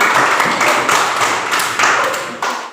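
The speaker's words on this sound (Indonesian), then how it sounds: "Ya, kita tepuk tangan." A primary school classroom audience claps together after a role-play performance, a dense, close patter of many hands with rhythmic surges that gradually tapers off.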